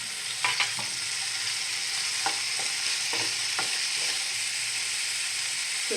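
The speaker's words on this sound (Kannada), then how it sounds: "ಅದರಿಂದ ಚೆನ್ನಾಗಿ ಫ್ರೈ ಆಗಬೇಕು" Onion and tomato fry in a pan for a palak gravy, a steady close sizzle with a few sharp scraping stirs early on and again midway, no talking.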